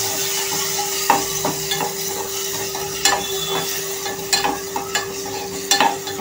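Tomato, sweet corn and carrot being stir-fried in a pan, soft steady sizzling broken by repeated scraping and knocking of a spatula against the pan, close up with a faint constant hum, no talking.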